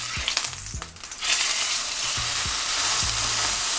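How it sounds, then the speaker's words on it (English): Steak dropped into smoking hot oil bursts into a loud, steady sizzle that continues as the fat renders, following a few brief handling knocks and thumps at the start. "once the oil is nice and smoking hot, we're going with our steak. First, we're just gonna render some of the fat"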